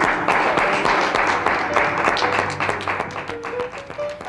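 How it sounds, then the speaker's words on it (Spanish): A ceremony audience in a theatre applauds an award winner, steady dense clapping throughout with a faint voice or tone near the end. "Un aplauso, por favor."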